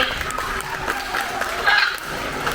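Audience applause and cheering at a parrot show at Theater of the Sea in Islamorada, Florida, a steady broad wash of clapping running through the whole moment with some bright chatter on top.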